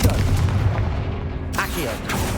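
Confringo blasting-spell explosions in the Hogwarts Legacy video game burst out as heavy booming blasts, a dense rumbling one at the start and a sharper crack midway, with game voices in between.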